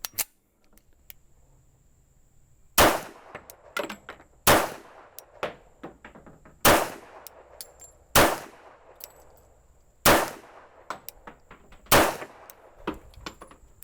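Seven sharp pistol shots from a 1911 firing semi-wadcutter ammunition during an outdoor shooting drill, each a loud close crack with a ringing tail, spaced irregularly about one to two seconds apart with faint clinks between.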